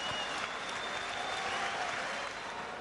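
A boxing arena crowd applauds both fighters after a hard-fought bout, steady dense clapping filling the hall at close range without pause.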